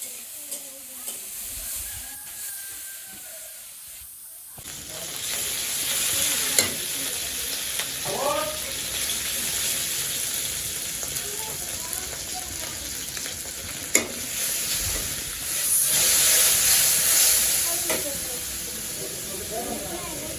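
Mirka fish curry with potato and eggplant cooking in a pan, a steady loud hissing sizzle running throughout with occasional stirring clinks, after a brief quieter start.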